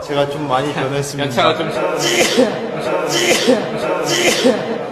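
A K-pop idol sneezes sharply amid lively Korean chatter. Several quick breathy bursts cut through the steady talk, with other voices and laughter close by.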